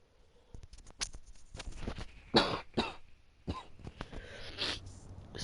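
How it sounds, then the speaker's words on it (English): A person close to the microphone coughs and sniffles in a string of sharp bursts and short breaths, scattered unevenly across several seconds amid quiet. "Sorry if you had that cough and snivel."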